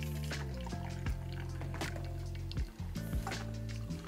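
Water drains through a paper coffee filter in a V60 dripper with soft trickling and dripping, close and fairly quiet, with nobody talking.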